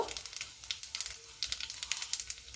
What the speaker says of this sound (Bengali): এবারে আমি এই ভাজা মাছের তেলের মধ্যে একটু কালো জিরে দিয়ে দেব।